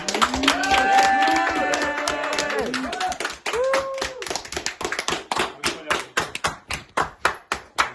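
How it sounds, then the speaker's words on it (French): A small group claps at the end of a film shoot, starting amid loud overlapping voices and cheering, then thinning into a handful of close, distinct, slowing claps. "Alors on peut tous s'applaudir."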